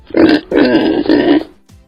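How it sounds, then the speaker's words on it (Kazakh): Three harsh, throaty pig grunts in quick succession, loud and close, followed by a brief quiet snort. "Доңыз"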